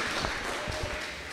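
A church congregation claps in praise during a worship service, a dense, steady wash of applause heard at a distance and fairly faint, with no voices over it.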